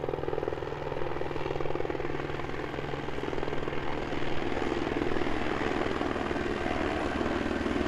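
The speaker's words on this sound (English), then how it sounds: "Look at this helicopter hovering over us." A helicopter hovers overhead at an alpine airport in snowy Queenstown, its steady rotor thrum loud and continuous throughout, with no talk over it.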